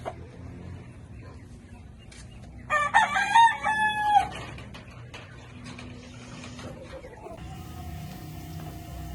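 On a small farm, a young rooster lets out one close, loud crow in the middle of the clip, with softer clucking and farmyard sounds around it.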